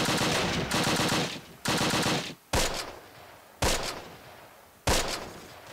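Dense gunfire bursts from the Close Combat The Longest Day video game, with loud sustained automatic fire broken by short gaps and several sharp reports between volleys, no talk.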